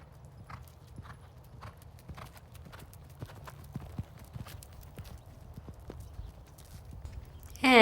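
Hooves of a gaited horse pacing over ground poles on a riding course, a quick, even clip-clop that sounds moderately close and carries on steadily throughout.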